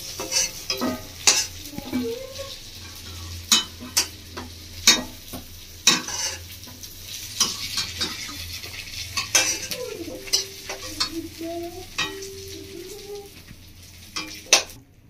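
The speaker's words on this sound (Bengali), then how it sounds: "পটলগুলো সব ভাজা রেডি হয়ে গেছে, আমার থালায় তুলে নিয়েছি।" Potol pieces sputtering in hot oil in a wok, an even background sizzle punctuated by irregular sharp spatula taps and clinks on metal, heard up close.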